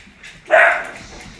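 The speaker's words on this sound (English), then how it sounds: "sorry about the dogs." A single loud dog bark bursts out near the microphone, then fades into a quiet room behind a model railroad layout.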